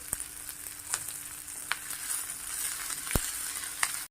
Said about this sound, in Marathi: कांदा थोडासा तेलावरती परतून घ्यायचा आहे कांदा परतण्यासाठी चिमूटभर मीठ टाकून घ्या